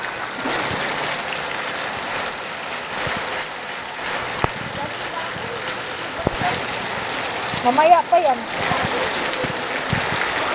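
Heavy rain and rushing water keep up a steady roar, broken by a few sharp knocks and a brief cluster of splashy clatter; people talk over it.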